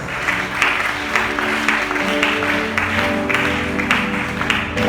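A church congregation claps and applauds the Lord, a dense, even patter of many hands continuing throughout with some crowd voices underneath.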